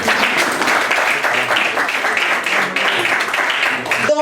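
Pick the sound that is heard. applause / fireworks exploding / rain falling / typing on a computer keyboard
applause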